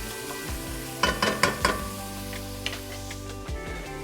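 Onions sauté in a pan with a soft continuous sizzle as a utensil scrapes and knocks against the pan in several quick stirring strokes, then settles.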